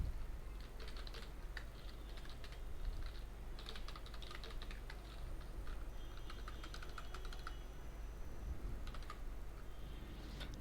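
Fast, close computer keyboard typing as data is entered into a database table, with bursts of key clicks separated by short pauses over a faint steady hum and no talking.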